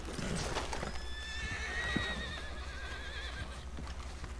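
In Red Dead Redemption 2, a nervous wild horse gives a clear, wavering whinny over a low background hum, while faint hoof thuds sound under it, all fairly quiet.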